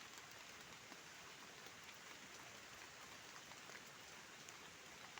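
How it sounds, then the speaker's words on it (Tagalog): Steady, dense heavy rain in a forest hisses without a break, a constant wash of drops pattering on surfaces. "dahil sa sobrang lakas ng ulan"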